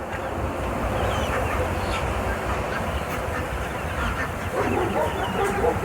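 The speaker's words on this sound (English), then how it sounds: "But these are our turkeys right here." Turkeys on a small farm make a busy, continuous jumble of close gobbling and squawking calls that overlap throughout, with no clear pauses.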